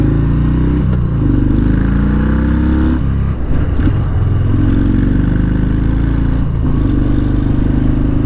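A 2019 Harley-Davidson FXDR on a test ride, its loud engine droning and revving continuously, with a few brief gear-change dips and wind buffeting, no talk.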